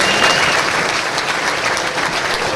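Sustained applause from an audience at an annual Chaldean community event, a dense, even roar of clapping that holds steady throughout.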